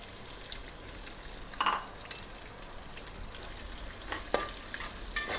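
Onion frying in hot oil and ghee with whole spices, a faint, continuous sizzle with a few brief scraping and clinking stirs of the spoon against the pan.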